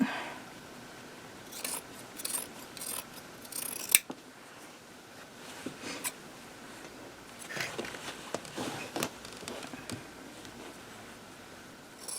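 Scissors trim the edges of a minky quilt, giving a series of crisp snipping cuts, close and fairly quiet, coming in irregular bursts with short pauses and a sharp click partway through.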